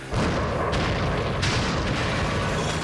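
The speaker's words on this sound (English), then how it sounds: "some supernatural sidearms will be available, like the Brimstone Cannon here" The Brimstone Cannon, a supernatural sidearm in the Spawn video game, fires in a loud, sustained booming blast, with heavy rumbling explosions that surge again partway through and fill the whole stretch.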